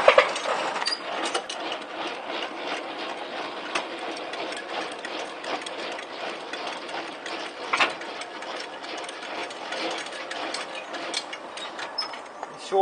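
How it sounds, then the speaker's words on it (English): A hand crank raises the landing gear legs of a semi trailer in low gear, giving a continuous, moderately loud ratcheting, grinding mechanical churn with small clicks throughout. "As I'm here I'll bring the legs up now."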